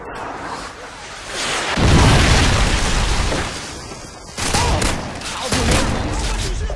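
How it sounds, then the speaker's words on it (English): A Predator missile strike in the video game Modern Warfare 2, heavy booming blasts with a big swell near the start, a brief dip, then another loud burst of explosive rumble mixed with gunfire and faint voices. "Friendly Predator missile incoming."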